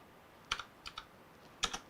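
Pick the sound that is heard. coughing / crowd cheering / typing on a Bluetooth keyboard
typing on a Bluetooth keyboard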